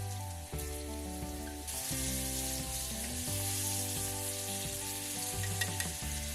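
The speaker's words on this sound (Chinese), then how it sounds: "直接加入我们的姜片爆香" Ginger slices sizzle and crackle hard in hot oil left over from frying salted fish, a steady dense frying hiss under an electronic hum, with stirring noises and no talk.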